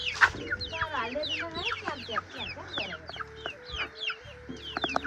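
Hens and chicks clucking and peeping close by in a busy, overlapping chorus of short calls, with some quiet human voices underneath.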